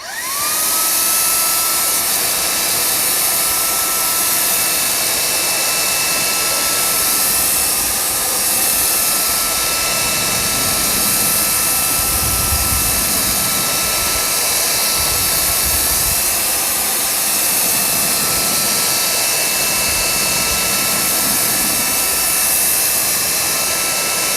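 GTM SG18/700BL cordless paint sprayer with a 2.5 mm nozzle spraying undiluted paint, a loud steady high-pitched motor whine and hiss running continuously throughout, close up, with slight wavering in the low end.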